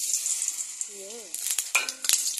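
Oil sizzles and spatters steadily as food fries in a pan, with a brief voice-like tone midway and sharper pops and clinks of stirring toward the end.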